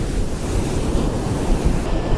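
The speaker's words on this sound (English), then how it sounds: "We're at Jones Beach on the ocean side on the south shore of Long Island" Ocean surf rolls in at Jones Beach on the south shore of Long Island, a constant loud wash of waves mixed with wind buffeting the microphone, with no speech.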